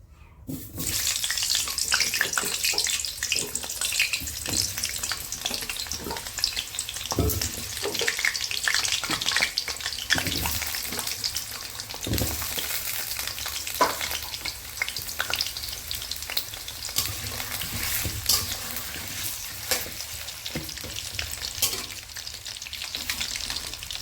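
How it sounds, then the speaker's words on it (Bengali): Potatoes frying in hot oil for a mutton curry, a loud, dense, continuous crackling sizzle lasting throughout with occasional stirring scrapes, no one talking. "এবার আলুগুলো লাল লাল করে ভেজে নেব।"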